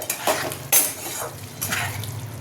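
Utensil clinking and scraping against a cooking pot as rohu fish roe fritter curry with potatoes is stirred, a few distinct metallic knocks spread over the moment, close and moderately loud with no talk.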